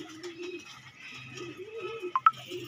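Pigeons coo softly nearby in a rolling, repeated murmur, with a couple of brief sharp clicks toward the end.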